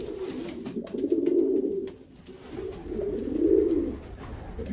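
Racing pigeons cooing in their nest boxes, two low, swelling coos rising and fading one after the other, close by with faint background noise.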